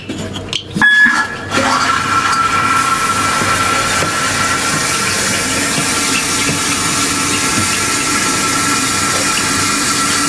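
A newly installed toilet refilling after its water supply is turned back on. A brief clunk of the valve comes first, then a loud, steady rush of water filling the tank, sustained and close.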